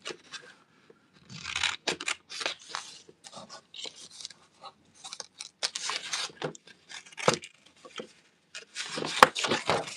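Scissors cutting paper in bursts of crisp snips and rasping strokes, close and moderately loud, separated by short pauses.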